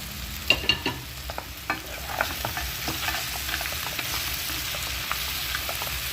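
Lentil dumplings (bori) and bitter gourd fry in a pan for shukto, a low steady sizzle broken by close scraping and clinking stirring strokes, with no voices.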